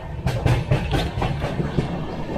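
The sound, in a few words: Mandovi Express train running on the Konkan Railway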